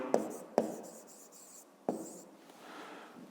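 A pen or pencil writes out a math expression on paper: soft scratchy strokes with a few sharp taps as the tip lands, quiet and close, no voices.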